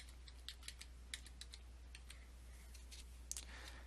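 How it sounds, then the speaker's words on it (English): Keys on a computer keyboard tap out a search term in short, light clicks, irregular and close, over a steady low electrical hum. "type the name of the substance that you are interested in"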